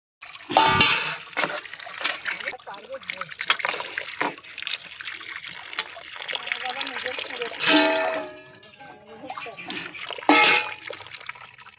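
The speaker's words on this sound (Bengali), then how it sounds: "তো এগুলো সমস্ত সবজিগুলো ধুয়ে নিই।" Vegetables including tomatoes are washed by hand in water outdoors, with irregular splashing and trickling bursts near the listener, and a voice speaks over parts of it.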